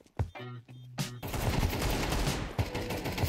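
Video game gunfire fills the stretch, starting with a few sharp separate shots and then running into a long dense burst of rapid automatic fire that stays loud to the end.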